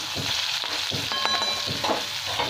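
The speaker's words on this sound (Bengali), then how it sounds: "আবার পেঁয়াজ দিয়ে দিলাম তেলের মধ্যে।" Onions fry in oil in a wok with a constant crackling sizzle, punctuated by repeated stirring scrapes and spatula knocks at a quick, uneven rhythm, close and fairly loud.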